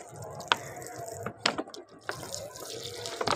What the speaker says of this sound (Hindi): पुदीने को दे देते हैं, इसको अच्छा खासा पानी देंगे तो ये ग्रो होगा